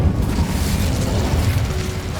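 Incendio fire spell cast in Hogwarts Legacy, a loud sustained whooshing roar of flame with crackling bursts, filling the short moment without any talk.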